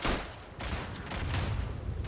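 Machine gun fire in the Verdun first-person shooter, a WWI battle on a Belgium map, with the emplaced gun swiveling on its axis; steady rattling bursts of fire with a dense low rumble, continuous and moderately loud throughout.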